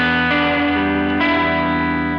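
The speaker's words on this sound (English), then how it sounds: "if you have the mix knob dialed back, you're hearing both signals, so that's why it's chorusing" Electric guitar run through a Source Audio Artifakt lo-fi pedal with its mix knob turned low rings out as a sustained, distorted chord with a wavering chorus-like shimmer, close and steady, alone without talk.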